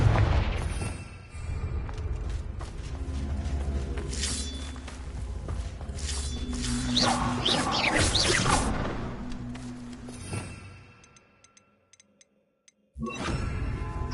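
Spell explosions and magical combat effects from the Hogwarts Legacy video game, loud booms and crashes layered with whooshes over a steady game soundtrack, then a brief near-silence before the action resumes.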